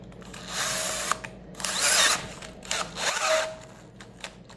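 A hand drill whirring in a few short, strained bursts as it turns a 3/4 tap through metal on a Case 2290 axle, close by, with brief pauses between pushes.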